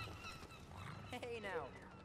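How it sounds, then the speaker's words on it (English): Gulls call in the video game Concrete Genie, a few faint squawking cries layered over quiet game background sound. "Play nice with the gulls."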